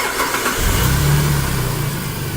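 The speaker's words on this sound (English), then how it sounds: "So I want to start the engine now." A car engine cranks and fires up during a standard diagnostic test, a short burst of starter noise rising into a steady running rumble, close and loud with no talking.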